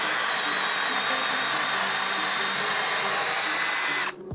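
A Bosch 12V drill fitted with a right-angle attachment runs steadily at high speed, a continuous close whine for about four seconds before cutting off abruptly.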